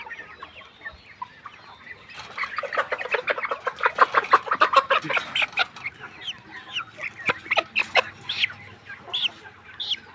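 A flock of sick layer hens with watery, swollen eyes clucks in a shed, quiet at first, then a dense run of rapid, repeated clucks and cackles building loudly close by, easing into scattered calls.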